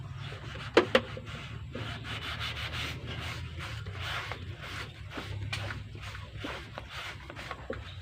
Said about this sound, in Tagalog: lilinisan natin tapos lalagyan natin ng grasa okay punasan natin